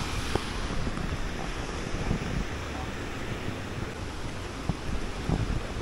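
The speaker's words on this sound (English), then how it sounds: "Currents is quite strong here." Strong river current rushing through Munich's English Garden park, a steady broadband wash of flowing water that continues without break, with a few faint knocks and a little wind buffeting the microphone.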